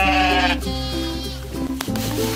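Sheep bleat loudly and close by during ear tagging, a long wavering call followed by shorter overlapping bleats from the flock, with faint handling rubs.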